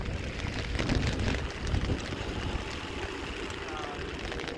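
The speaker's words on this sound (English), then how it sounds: "It looks like it's drizzling. But it's a lot of water." Drizzling rain falls along a river bank in Lyon, France, a soft, steady hiss and patter close by with a low background rumble throughout.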